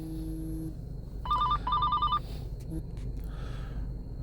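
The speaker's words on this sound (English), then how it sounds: "I had a phone call there for a second." A telephone rings in two short electronic bursts of a warbling trill, fairly close, with a low steady hum behind it and no talking.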